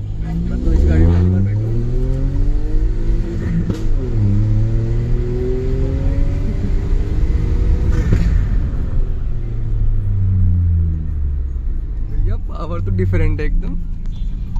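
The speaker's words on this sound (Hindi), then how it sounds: "ओके भाई चलो आवाज सुनना आप लोग इस गाड़ी की।" A supercar with a downpipe and muffler exhaust at Khan Market revs loudly several times, each blip rising and falling over a rumbling idle, with people talking nearby.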